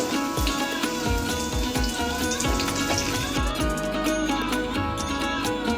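Dried red chillies and curry leaves frying in hot oil, a dense, continuous crackling sizzle close up, with no one speaking.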